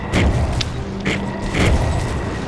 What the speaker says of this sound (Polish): Z tymi wybuchającymi trupami to jest naprawdę masakra.